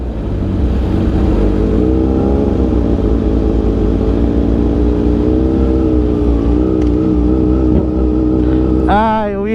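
A big bike motorcycle engine runs loud and close, its revs rising and falling in a continuous, wavering drone, with a brief sharp noise right at the end.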